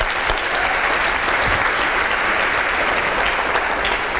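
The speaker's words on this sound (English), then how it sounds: "And let's give a big round of applause for Kevin." An arena crowd at a volunteer awards ceremony gives loud, steady applause, an even wash of many hands clapping at once with no break for four seconds.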